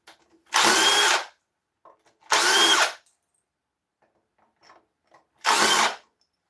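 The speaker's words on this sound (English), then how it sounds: "this is my favourite part, the hollowing process." An oak bowl is hollowed on a wood lathe: three separate bursts of loud, close, harsh cutting noise, each under a second long, with near silence between them and no voices.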